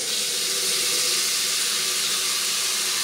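A half-bath faucet in a house runs water steadily in a constant, close, even hiss that does not change, with no voices.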